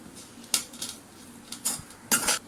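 Cooked rice with raw banana masala is being stirred in a pan for vazhakkai sadham, giving a few soft metal spoon scrapes and clinks against the pan, close and quiet, with no talking.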